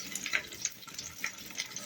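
A small amount of water, roughly 50 to 100 grams, is poured into the bottom of a pan of cutlets, making a soft, steady splashing hiss with faint sizzle, close and fairly quiet.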